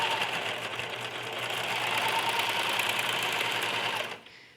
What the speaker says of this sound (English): And I like to use my serger to sew those together so that we have neat lines.